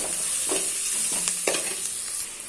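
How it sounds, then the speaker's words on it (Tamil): About ten crushed garlic cloves sauté in a pan, a steady sizzle broken by a few sharp scraping stirs of a spoon, close and moderately loud, with no talking. "இதை இதில் போட்டு அந்த வாசம் போகிறது வரைக்கும் நல்லா வதக்கிடலாம்."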